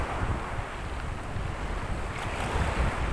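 Big surf breaking at a beach at Sitio Pulot, a dense, steady wash of crashing water and wind buffeting the microphone, loud and close with no pause.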